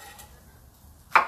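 A single sharp knife chop through an onion on a board rings out close and loud near the end, after a stretch of near silence.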